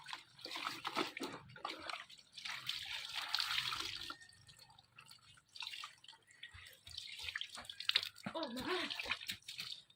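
Clothes being hand-washed with cold tap water on a winter morning, with irregular splashing, dripping and sloshing close by, and a voice talking over parts of it.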